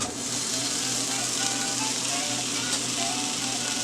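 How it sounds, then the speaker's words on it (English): Vegan brisket sautéing in a hot pan, a steady, dense sizzle that stays even throughout at moderate loudness, without pauses or talk. "And I'm just going to give this a quick saute. Just to wilt, lightly brown that."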